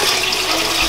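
Water tipped from a plastic tub into a new aquarium over fresh sand, a steady loud rushing splash filling the whole second without pause.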